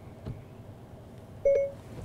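A single short electronic tone from a car's voice-command system after its button is held, clean and fairly loud over a quiet cabin hum.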